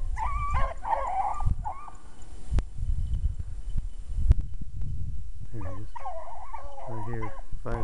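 Dogs at a conservation-area field hunt, whining, yipping and barking in short excited bursts at moderate distance, with steady outdoor noise and a few sharp knocks between calls.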